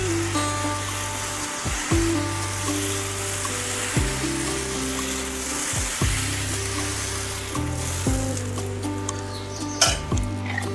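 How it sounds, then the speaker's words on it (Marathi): Jowar flour dosa batter is spread on a hot tawa, hissing in a steady close sizzle with soft scraping and swirling sounds under light background music. "पळी आपल्याला बॅटर तव्यामध्ये टाकायचं आहे."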